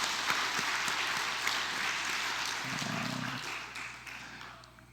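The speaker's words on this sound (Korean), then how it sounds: "우리 효도하는 그 믿음의 형제들을 위해서 응원의 박수 한번 해주세요" Encouraging applause from a congregation at a Korean Thanksgiving Sunday worship service, steady clapping filling the room and fading gradually near the end.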